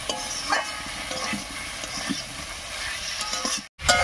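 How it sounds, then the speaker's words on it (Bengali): Fried potato and eggplant with spices are stirred in a pan, and a steady soft sizzle runs underneath scattered spoon scrapes and light knocks. "এবার সব কিছুর সঙ্গে খুব ভালো করে মিশিয়ে নেব"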